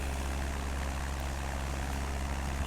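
Steady, loud drone of a small propeller airplane engine in flight on an early-morning island-hopping trip out of Van Nuys, a continuous low throbbing hum filling the whole stretch without talk.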